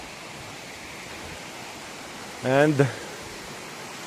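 A waterfall in a mountain canyon pours with steady, broadband rushing that fills the whole clip, while someone briefly speaks over the constant roar.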